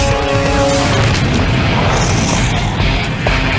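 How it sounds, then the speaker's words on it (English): Flammable propane mist from a truck's leaking hose, at a faulty clamp, ignites in a loud, sustained roaring blast that fills the whole clip with dense broadband rumble and crackle, close and overwhelming, with no voices. "2 seconds later, the flammable mist ignites"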